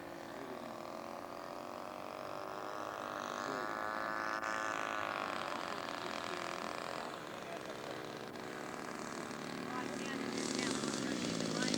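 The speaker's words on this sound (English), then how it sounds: "John's coming in for landing now." A scale model aircraft comes in to land at an outdoor show, its engine a faint, steady droning whine that swells and shifts in pitch as it passes, with an announcer talking over it.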